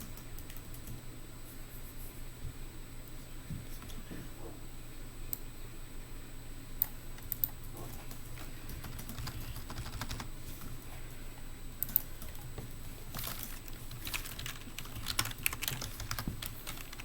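Typing on a computer keyboard during a literacy instruction session, with steady soft clicking and occasional sharper keystrokes continuing throughout over a constant low room hum.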